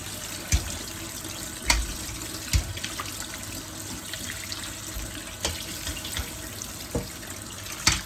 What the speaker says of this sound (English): I'm going to kind of wash it with hot water a bit